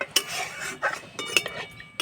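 Metal spoon scraping and clinking against a wok while semolina is stirred with milk on the stove, irregular close taps and scrapes in quick bursts, no talk.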